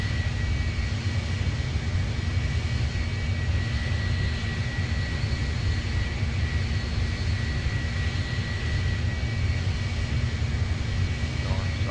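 Steady, unbroken roar of an aircraft engine in the Roblox game Project Flight, a constant broadband drone with a faint tonal whine that holds at even loudness throughout, with no talk.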